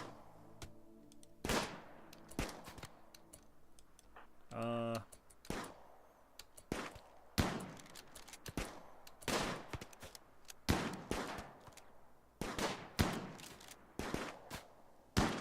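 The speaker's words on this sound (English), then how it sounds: "Now they're shooting at a turkey." Scattered gunshots from a video game ring out in sharp, irregular cracks and short bursts, some close and loud, others quicker and fainter, while someone talks over the shooting at a turkey.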